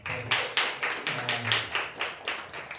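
A congregation at an evening church gathering claps along in a steady, rhythmic beat of about four claps per second, moderately close, with a faint low voice or hum underneath.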